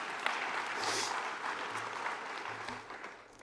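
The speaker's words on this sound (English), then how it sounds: "yeah, you can clap for that" An audience at an annual municipal conference breaks into steady, moderate applause, a dense patter of many hands filling the room at some distance.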